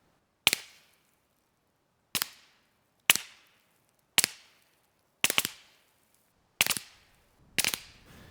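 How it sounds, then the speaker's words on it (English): Seven single 9mm shots from a Car15 carbine at a 50-yard range, irregularly spaced, each a sharp loud crack with a short ringing decay into quiet. "Give you a couple more rounds of 9mm."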